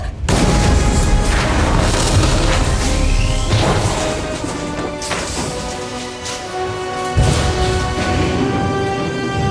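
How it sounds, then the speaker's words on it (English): A loud, crashing explosion in an audio drama rips open at once, then a long rumbling roar with debris-like clatter that slowly fades over several seconds, with a second heavy thump near the end. "That's the explosion?"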